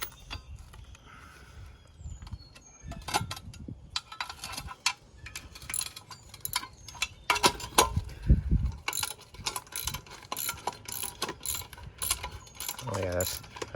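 Wrench work loosening nuts on a boat trailer tongue, with repeated ratcheting clicks, metallic creaks and scraping in uneven bursts, close and moderately loud throughout.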